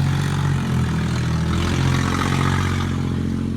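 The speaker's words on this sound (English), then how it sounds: "that guy's truck sounds like shit" A truck engine rumbles steadily at a city intersection, a low idling drone with slight revving swells that holds loud and continuous throughout.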